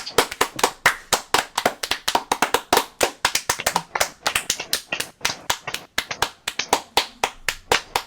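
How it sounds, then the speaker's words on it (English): A single person claps rapidly and sharply, close up, in quick bursts of crisp, uneven hand claps with short gaps, no talking. "Round of applause for fun."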